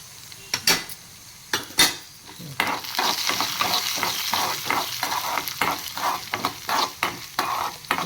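Coriander seeds, fenugreek, urad dal and cumin dry-roasting in a pan for pumpkin sambhar, with a spoon stirring in rhythmic scrapes and taps over a soft rustling sizzle, close and clear.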